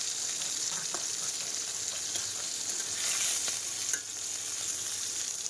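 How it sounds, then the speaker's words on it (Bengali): Pieces of snakehead fish sizzle in hot oil in a pan, giving a steady, soft frying hiss with a few faint stirring scrapes and clicks and no voices. "এদিকে দেখো আমার মাছ ভাজা হয়ে গেছে"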